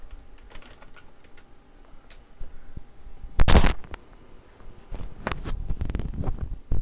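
Typing on a computer keyboard, with irregular clicks of individual keys near and clear, a loud burst of rapid key presses in the middle, then more bunched typing toward the end.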